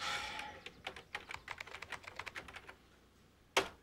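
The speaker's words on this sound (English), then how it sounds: "Let me hit a few keys then." Fingers tap a computer keyboard in a quick, uneven run of close, light keystrokes, then a pause and one louder final key strike.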